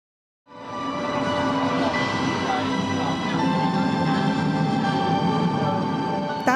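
Inside a Kaohsiung light rail train fitted as an immersive carriage, a loud, steady rolling rumble with wheel and track noise starts abruptly after a brief silence and continues evenly close by.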